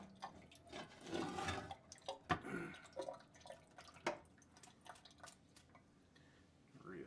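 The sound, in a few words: rinsing the outside of a water kefir bottle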